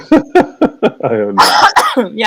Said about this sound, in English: look, you're making me cough and everything.